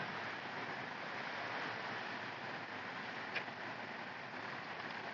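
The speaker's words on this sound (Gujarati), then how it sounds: "આમ જો આ નદી ખીલખીલાટ કરતી હતી, કેટલી મસ્ત લાગે જુઓ" A river rushing along beside a roadside, steady broadband water noise filling the whole stretch with a faint brief click partway through, no voices.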